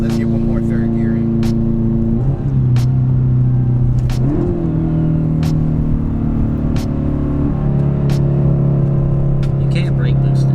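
A 2015 Subaru WRX STI, stock apart from its clutch, axles and driveshaft, accelerates hard through third gear from inside the car, its engine droning steadily upward in pitch under steady road rumble, with people talking over it.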